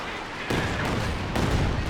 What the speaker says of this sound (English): Katyusha action.